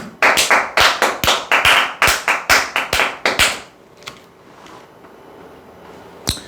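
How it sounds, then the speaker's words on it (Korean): A lecture audience claps in a burst of about a dozen sharp, close, evenly spaced claps over three seconds, then the room drops to quiet with one faint tap and a final single clap. "박수 한번 쳐야 됩니다."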